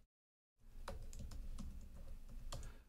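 An administrative password typed on a computer keyboard, a faint, quick run of soft key clicks that starts after a brief silence and continues steadily without speech.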